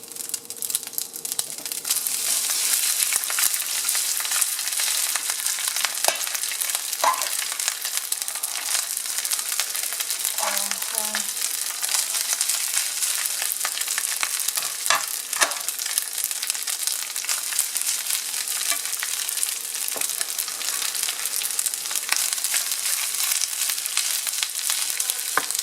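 Rice for pork fried rice frying in an oiled pan, a constant dense sizzle with occasional stirring scrapes and crackles, steady and close.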